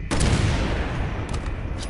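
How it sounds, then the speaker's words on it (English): A grenade blast in the video game Resident Evil 6 erupts as one loud, sudden boom, then fades into a long rumbling roar with faint crackling afterward, and no voices are heard. "Waste one grenade."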